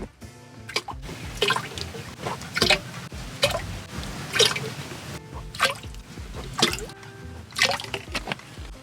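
Water sloshes and splashes in repeated bursts as hydroponic nutrient solution is stirred and mixed in a container on a farm, with drips between the swirls.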